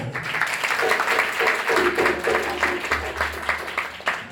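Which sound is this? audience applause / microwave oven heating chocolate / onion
audience applause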